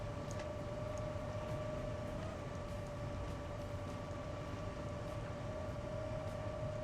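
Steady low rumble of a train running in the video game Transport Fever 2, with a constant tonal hum and faint clicks, heard alone at low level.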